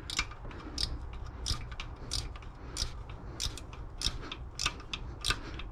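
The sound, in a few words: ratchet wrench turning a 14 bolt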